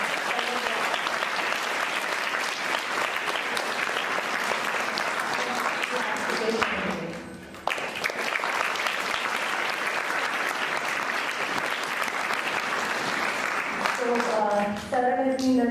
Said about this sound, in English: Please, with a round of applause, let's first welcome the artist.